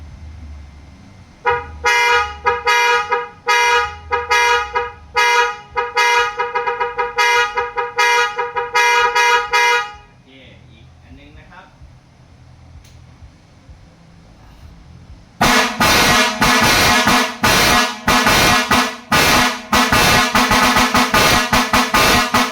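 Loud air horns mounted on a commuter van, fed by a two-cylinder pump and aluminium tank, blast in rapid pulsing bursts, a pause with hissing air, then another long series of harsh, blaring horn pulses.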